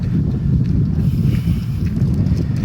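Gusty wind rushes past the microphone in a Madrid park as a constant low rumbling roar with no break. Nothing else is heard over it.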